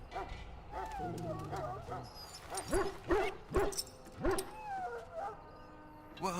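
A dog in the Dragon Age: Origins game gives short barks and soft whimpers, several yelps in a row at moderate loudness over a background of game music and ambience.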